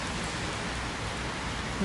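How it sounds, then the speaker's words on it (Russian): Steady rain falls outdoors near trees and a bridge, a dense, even hiss of drops that stays loud and unbroken for the whole stretch, with no voices. "дождь все еще идет"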